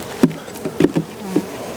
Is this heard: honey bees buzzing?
yes